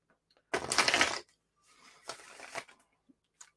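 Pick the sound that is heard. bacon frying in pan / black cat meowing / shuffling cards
shuffling cards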